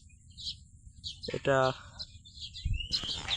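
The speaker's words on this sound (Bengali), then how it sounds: "পাখিগুলো কিচিরমিচির করছে।" Small birds chirp near a weaver bird nest in a morning field, with short bright calls scattered at middle distance, a brief harsher call partway through and a voice speaking briefly.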